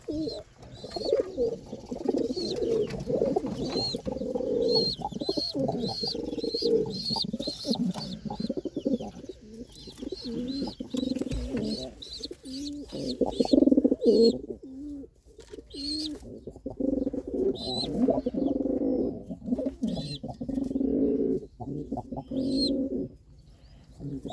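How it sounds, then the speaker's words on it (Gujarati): A pigeon coos repeatedly in a throaty, rolling rhythm nearby, with sharp chirps from other birds scattered through the calls. "જો મિત્રો, અહીંયા પારેવો ઘૂઘે છે"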